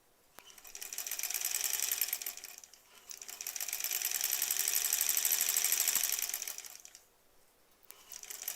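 Sewing machine stitching long, skinny selvage strips onto an improv-pieced quilt back, running in two sustained bursts with a brief pause between and a short restart at the end, close and steady with no talk.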